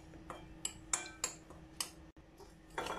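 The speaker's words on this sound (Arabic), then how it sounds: "وهبتدي اقلب المكونات" A spoon clinks and scrapes against a bowl while keto cookie dough ingredients are stirred, a series of quiet, irregular taps and knocks spaced about half a second apart.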